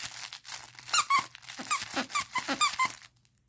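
A squeaky dog toy is squeezed again and again, giving a rapid run of shrill, rubbery squeaks close up that stop abruptly.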